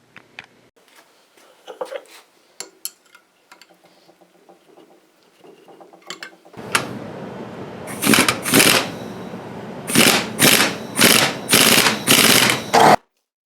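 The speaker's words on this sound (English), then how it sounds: "I'm going to use an impact to make it go a little faster." Impact wrench running on a Ford F-150 rear differential during bearing replacement, several loud ratcheting bursts in quick succession after quieter wrench clicks and handling noises.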